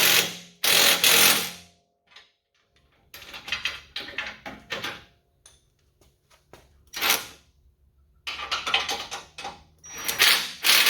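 A ratchet tightening bolts on a crossmember brace armor under a Ford Bronco V6, in bursts of rapid close clicking separated by pauses, with quieter metallic handling between strokes.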